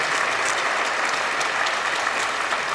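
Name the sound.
audience applause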